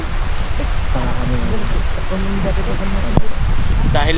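Heavy rain pours on a mountainside, a dense, steady hiss that fills the whole stretch, with voices talking faintly underneath and a brief louder rustle near the end.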